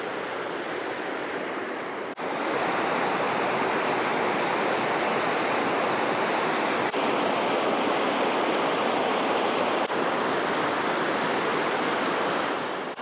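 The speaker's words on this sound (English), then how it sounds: "Little rapids down there." Small river rapids flowing beneath a bridge near the ruins of Bolton Priory, a continuous even rush of churning water that stays steady and fairly close throughout, with no voices.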